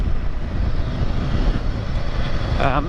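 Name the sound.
Royal Enfield Himalayan 450 motorcycle engine under throttle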